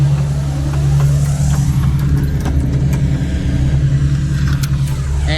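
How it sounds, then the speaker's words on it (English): A truck idles and creeps in reverse while backing cotton bale trailers together on a farm, giving a loud, steady engine drone with faint metallic rattles and clanks over it. "I'm just going to back these two trailers up together"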